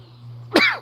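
A single sharp sneeze bursts out near the end of a quiet stretch with steady low hum, right after hot sauce went down the wrong way.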